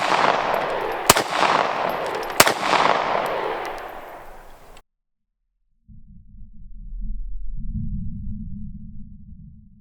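A 6.5 Creedmoor custom rifle fires two sharp, loud shots across a canyon toward a steel gong at 800 yards, each followed by a long echoing tail, then a break and low rumbling wind noise.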